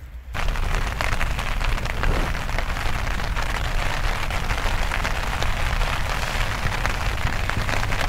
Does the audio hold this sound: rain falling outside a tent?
yes